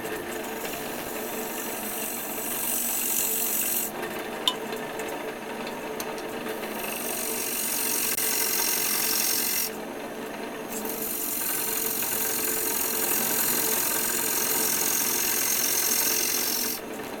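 Wood turning on a lathe as a full gouge hogs off material, a loud continuous rasping cut with two brief pauses when the tool lifts away, steady and close.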